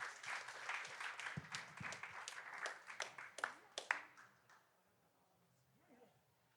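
Audience applause for a panel of wine speakers, a dense burst of clapping that swells, stays steady for a few seconds, then thins out and fades to near silence.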